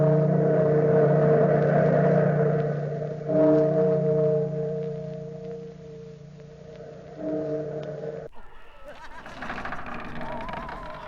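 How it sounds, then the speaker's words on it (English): A deep bell tolls as a sound effect in the closing of a vintage radio drama, its long, sustained, humming tones ringing and swelling before a sharp break into other noise near the end. "Bellkeeper, toll the bell."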